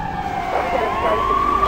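A police car siren in the video game GTA 3 wails steadily and loudly, its rising and falling tones sweeping over a constant engine and road rumble, with no other sounds breaking through.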